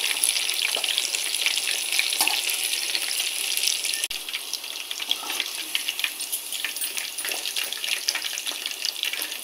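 Food frying in a hot pan and being stirred while it browns, a steady loud sizzle with scraping stir strokes and crackles throughout, no voices.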